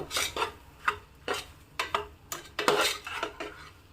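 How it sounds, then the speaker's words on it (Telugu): Salt, chilli powder and spices being stirred into a boti (tripe) curry, heard as a run of uneven scraping and clinking strokes of a spoon against a pot, close and fairly loud, with faint sizzling underneath and no talk. "సాల్ట్ కారం మసాలాలు అన్నీ బాగా పట్టేలాగా ఒకసారి మొత్తం కలుపుకుందాం"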